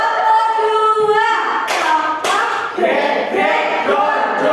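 A group claps in rhythm during a school session on positive culture. Bursts of sharp, close hand claps come in a counted pattern, mixed with chanting voices that rise and fall around them.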